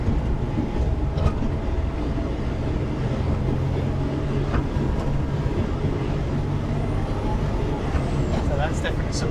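Continuous loud, misfiring engine rumble from inside a moving Ford Anglia, rough and uneven, with road noise underneath and no break.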